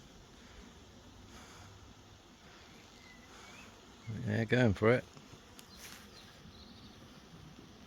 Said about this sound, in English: So these bees can be a bit aggressive.